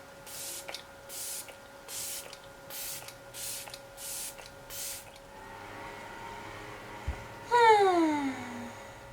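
Seven quick, evenly spaced hissing spritzes burst from a spray bottle nozzle, followed by a faint rising whine and a brief squeaky sliding sound near the end, close and without speech.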